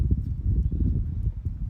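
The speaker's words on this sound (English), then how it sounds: "now we're going to canter our second direction, same aids, inside rein" A horse canters during a pentathlon warm-up, its hooves thudding in a quick, steady three-beat rhythm, close and loud with no voices.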